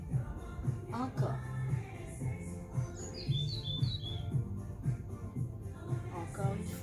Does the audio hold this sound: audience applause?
no